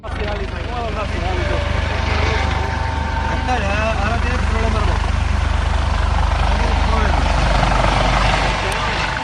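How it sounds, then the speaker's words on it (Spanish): A customs surveillance helicopter flies low over the water in pursuit of a boat. Its rotor chop roars loud and steady throughout, with a mix of engine drone and broadband noise and no speech. "Uno de los helicópteros de vigilancia aduanera persigue casi a ras de agua una embarcación en la que van 3 ocupantes."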